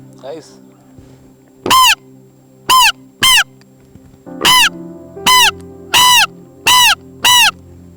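A person imitates a crow with eight loud, harsh caws in an uneven rhythm over a low droning background.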